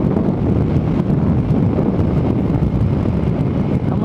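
Heavy wind rushes past a rider on a Yamaha XJ6 motorcycle, a loud continuous roar and buffeting across the whole stretch with no voice.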